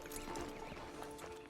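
Horse hooves clip-clop at a steady walk in the Western open-world game Red Dead Redemption 2, mixed with a low musical drone and ambient game sound throughout.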